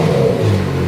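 A crash-damaged Ferrari F430 under restoration revs in a workshop, a loud, steady engine roar with a slight rise in pitch across a brief burst, heard up close.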